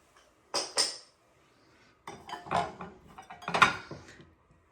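Two Pyrex glass custard cups are handled up close, giving a few short clinks and knocks in separate bursts with quiet gaps between them.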